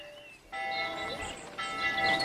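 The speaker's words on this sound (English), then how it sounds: "Listen to the bells." Church bells ring out over a village during a festive day, a steady resonant pealing with sustained tones at moderate distance, no voices.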